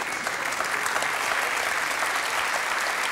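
A studio audience at a German TV comedy show applauds loudly and steadily, a dense wash of clapping throughout with no talk over it.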